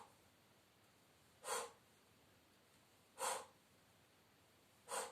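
Three separate breaths, roughly evenly spaced and soft, during a gentle seated exercise class with a stick, each a brief airy rush with quiet pauses between.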